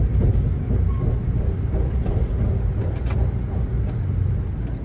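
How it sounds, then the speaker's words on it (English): The Amtrak City of New Orleans passenger train rumbles steadily across the old Pennsylvania Railroad Bridge over the Chicago River. The roar of rail and wheels stays continuous and loud from inside the train, and a few faint clanks sound through it. "Now we're crossing the Chicago River over the old Pennsylvania Railroad Bridge"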